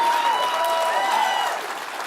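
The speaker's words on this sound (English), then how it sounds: "give them a round of applause." Crowd at a union-hosted presidential candidate forum giving a round of applause for the moderators, loud continuous clapping with cheers mixed in, tapering slightly at the end.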